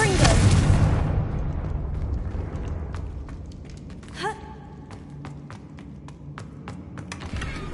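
Confringo fire spell erupting in Hogwarts Legacy: a loud, broad fiery burst at the start that decays over about a second, followed by a short whooshing flare and scattered sharp clicks and taps from the game.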